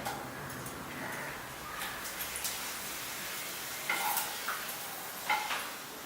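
Hot oil sizzles and crackles steadily as papads fry, with a few brief louder bursts of bubbling and light clinks near the end.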